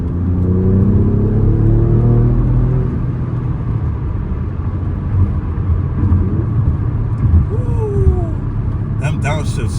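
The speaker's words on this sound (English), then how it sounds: "So I'm gonna start it in race mode." Alfa Romeo Quadrifoglio started in race mode, the engine firing with a loud rumble that settles into a throaty idle with a couple of short revs, heard close up.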